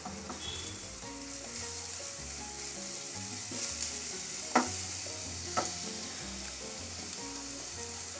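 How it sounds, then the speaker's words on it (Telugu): Onion, green chili and garlic frying in a pan for potato Manchurian, a steady close sizzle with light stirring scrapes and two sharp clinks of a utensil on the pan. "గార్లిక్ వేసుకున్నానండి. ఇది కొంచెం మంచిగా ఫ్రై చేసుకోవాలి."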